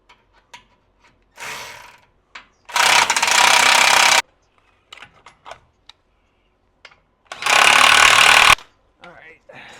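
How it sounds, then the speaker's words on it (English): Motor mount bolts are tightened during engine reassembly: two loud, dense bursts of rapid ratcheting a few seconds apart, with scattered clicks and small clanks around them. "Let's start by tightening these motor mount bolts down."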